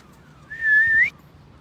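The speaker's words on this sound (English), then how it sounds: "You might hear the odd whistle" A single sustained human whistle, rising slightly at the end, blown to call dogs back during an open-country walk; clear and fairly close against a quiet background.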